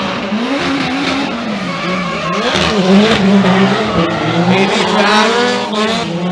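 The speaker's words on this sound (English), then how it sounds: "You have two 4-cylinder turbo-powered cars here." Two 4-cylinder turbo-powered drift cars battle at Formula Drift in Palm Beach, engines roaring and tires squealing continuously, loud and close, with a commentator talking over the action.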